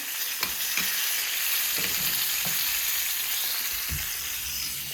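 Salmon frying slowly in butter in a pan, a steady bright sizzle throughout with a few soft clicks and taps of utensils, close and continuous, no voices.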